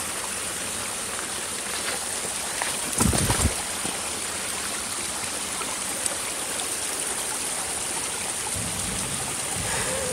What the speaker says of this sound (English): I am going to cross this little natural stream